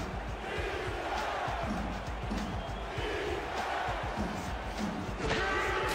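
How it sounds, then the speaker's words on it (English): Football stadium crowd roaring and cheering steadily at a Blue Bombers versus Tiger Cats game, a dense, loud wall of voices with thumps and claps, swelling slightly near the end. "This crowd not calming down."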